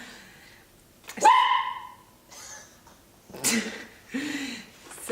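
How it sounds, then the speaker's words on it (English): A loud dog gives a sharp bark and then several more short barks and yips, close by with quiet gaps between them. "with my really loud dog"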